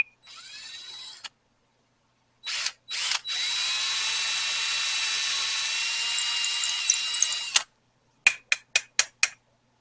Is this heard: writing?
no